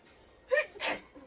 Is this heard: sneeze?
yes